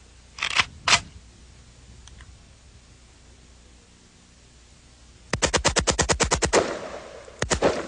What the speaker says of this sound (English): It's an AK-47. Primary feature is with one pull of the trigger, it will fire repeatedly.